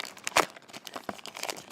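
Scissors cutting open tight plastic wrapping on a book-shaped Disney Happy Places toy, giving faint, brief crinkles and snips in a short irregular burst, the loudest snip near the start.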